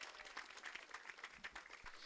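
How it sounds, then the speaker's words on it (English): Audience applause at a public talk about women, creativity and power, steady dense clapping filling the whole stretch at a moderate, fairly distant level, with no voices over it. "Can we just get another round of applause"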